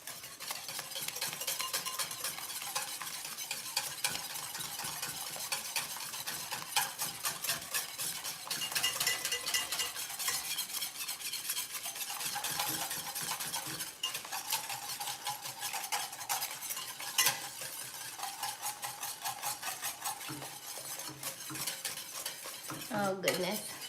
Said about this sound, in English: If you're using too big of a pot, make sure you whisk quickly.